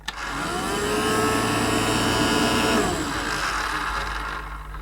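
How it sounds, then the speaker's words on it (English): A small electric motor in a Casdon Dyson DC01 toy vacuum cleaner whirs at a steady, high-pitched hum, starting abruptly and running continuously before its pitch drops slightly near the end. "we can switch on the vacuum motor,"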